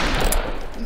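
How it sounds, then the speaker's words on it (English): A rapid spray of gunfire in the Western video game Fistful of Frags, a quick loud flurry of shots lasting under a second. "I panicked and just shot everywhere"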